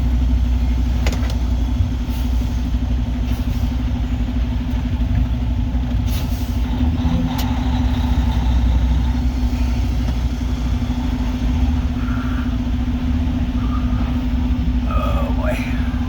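A truck's engine runs steadily while driving and turning, a constant mid-pitched drone with road rumble throughout, and a few faint clicks and knocks over it.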